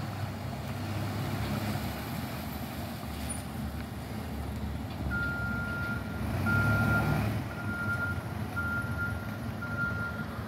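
A truck reverses at early morning with a steady series of evenly spaced beeps over a loud idling engine rumble, the warning tone repeating about every second and heard from nearby.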